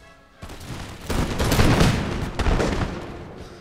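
Musket infantry volleys in the video game Empire Total War crackle as dense overlapping gunfire, swelling into a loud sustained fusillade with rumbling booms before tapering off slightly.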